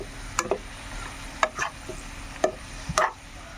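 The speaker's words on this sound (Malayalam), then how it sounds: "പച്ചമുളക് സവാള എല്ലാം കൂടെ ഒന്ന് ഇളക്കി ഒന്നുകൂടെ മൂടി പൊത്തി വയ്ക്കും" A spoon stirs green chilli, onion and drumstick pieces in a pot of Kerala aviyal, giving several irregular scraping strokes against the pot, close and fairly quiet, with no voices.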